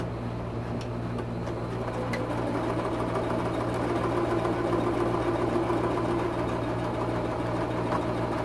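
A sewing machine stitches a paper-pieced quilt block, running as a steady, continuous mechanical hum with a fine rapid rattle, close and unbroken from start to finish.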